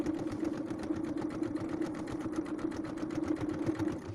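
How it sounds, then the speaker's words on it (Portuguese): Close, continuous rhythmic chatter of a sewing machine running a safety seam on a wallet, with an even fast needle pulse and a steady motor hum throughout. "Faço costura de segurança."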